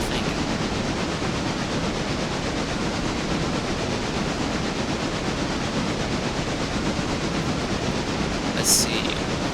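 A train from the railway game Railroader rolls steadily along its rails, giving a dense, continuous rumble with a soft rushing hiss. It holds a constant loudness throughout, with only a brief brighter squeal near the end.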